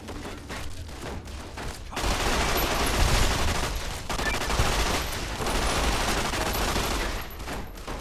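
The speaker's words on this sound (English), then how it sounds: "Still being shot at." Gunfire in Fallout: New Vegas, a dense, sustained burst of rapid shots and crackling that swells and holds for several seconds, loud and close, with quieter stretches at the start and end.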